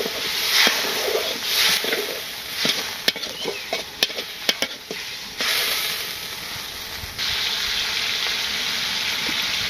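Raw jackfruit curry sizzles in a pan as it is sautéed with spices, a steady frying hiss broken by clicks and scraping stirs close by.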